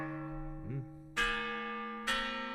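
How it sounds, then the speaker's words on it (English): A sampled bell at its original pitch strikes twice, each bright clang ringing out with long, sustained overtones; a faint tonal sweep sounds before the first strike. "So here's the bell."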